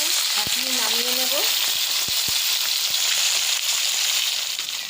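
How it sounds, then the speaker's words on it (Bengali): Hilsa fish frying lightly in a pan, a loud, steady sizzle with a few sharp clicks and a brief low tonal sound near the start. "মাছটা হালকা করে ভেজে নেব, বেশি কড়া করে মাছটা ভাজবো না"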